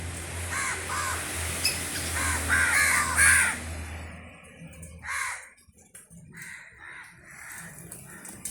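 Large black crows caw repeatedly in the morning in a cluster of harsh calls early on, then fainter, scattered caws and rustling follow against an outdoor background hum.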